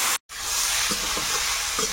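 Eggplant and potato frying in a pan with oil, a steady broadband sizzle filling the clip after a brief silent gap near the start, with a few soft stirring scrapes.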